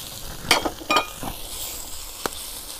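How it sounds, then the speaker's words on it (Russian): Pork cracklings sizzle and crackle in a frying pan made from a harrow disc, outdoors at a picnic: a few sharp bursts of frying noise with quieter hissing between, close and alone. "Отправляем в наше чудо-сковородку шкварочки"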